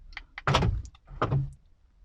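Door lock actuators on a seventh-generation Honda Civic with a faulty rear right lock motor give two close, dull mechanical thunks about a second apart, with a faint click before them.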